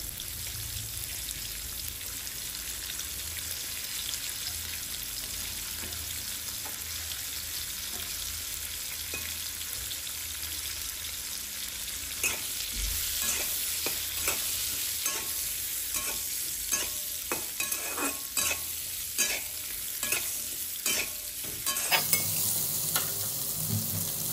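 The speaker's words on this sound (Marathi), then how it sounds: "थोडंसं गरम झालं की लगेच आपले जे करटुले असतात ते पण आपण तेलामध्ये टाकून घ्यायचे, त्याला एकदम चांगलं फ्राय करायचं" Spiny gourd (kartule) pieces frying in hot oil with turmeric give a steady sizzle, with clicks and stirring taps that grow busier partway through. No one speaks.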